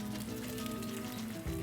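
Fish maw sizzling in hot oil in a hot iron wok, a steady dense crackle with a brief louder burst near the end, no voices.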